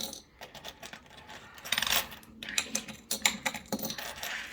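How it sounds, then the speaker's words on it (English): Loose coins drop into a jar in a series of uneven clinks and jingles, some single and some in small clattering bursts, close and fairly quiet with no speech. "So coins will go in my jar."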